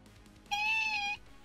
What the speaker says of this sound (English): Kitty comes in and says hi